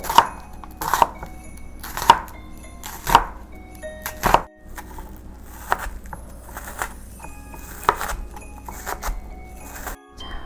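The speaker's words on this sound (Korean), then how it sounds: "양파 약간도 잘게 다질게요." Onion being finely chopped with a knife on a cutting board: a steady series of sharp, close knife taps roughly once per second, clear and alone with no talk.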